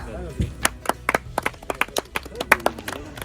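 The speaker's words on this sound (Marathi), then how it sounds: "टाळ्या" Scattered hand clapping at a village cricket prize ceremony, a short burst of uneven claps from a small nearby crowd.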